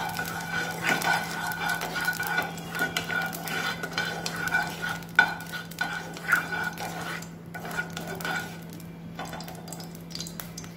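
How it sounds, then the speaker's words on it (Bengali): Food is stirred and fried in mustard oil in a wok over a gas flame, with a soft continuous sizzle broken by scraping and clinks of a spoon against the pan, close by and quiet, with no talking. "ভালো করে ভেজে নেব।"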